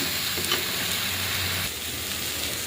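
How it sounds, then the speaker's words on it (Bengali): Leafy greens fresh from the garden sizzle and crackle steadily in hot oil in a pan, with a faint stir near the middle and the hiss easing slightly toward the end. "শাকটা ভেজে নেব"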